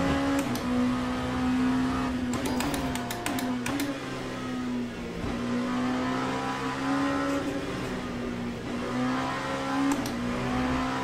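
Race car engine in Le Mans Ultimate, a steady loud drone that holds and swells as the car accelerates, with brief clicks and bursts scattered across the first few seconds.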